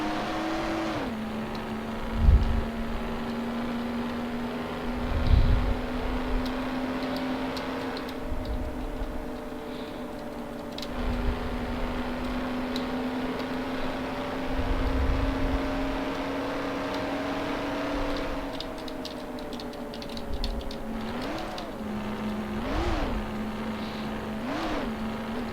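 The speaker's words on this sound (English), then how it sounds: "So now because of the engine, you won't be hearing me that well." A car engine in the video game Mafia drones steadily at a constant pitch, then its tone shifts slightly and pulses with repeated revs near the end, with no talking over it.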